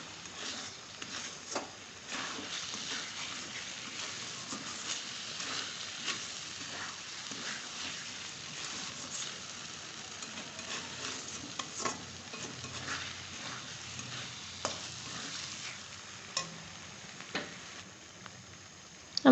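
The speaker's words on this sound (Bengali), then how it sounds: "এবার আমি এটা খোলা অবস্থায় কিছুক্ষণ ভালোভাবে নাড়িয়ে নেব।" Aloo posto, potatoes coated in poppy seed paste, stirred steadily in an open pan over medium heat, with a soft continuous sizzle beneath repeated scraping strokes and occasional sharper utensil taps, close and moderately quiet throughout.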